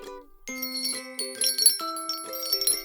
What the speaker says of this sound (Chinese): 我做的塔克风铃会发出好听的声哦